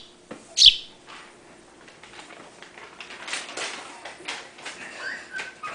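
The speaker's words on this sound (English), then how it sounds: "The birds are feeding right here." House sparrows chirp while feeding outdoors, with scattered soft chirps and faint rustling after one sharp knock near the start, at a moderate distance.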